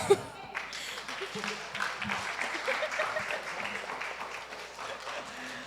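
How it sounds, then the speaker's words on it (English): An audience at a youth church service applauds in a sustained round of clapping that rises and then holds for several seconds, with some voices mixed into it. "please give a round of applause"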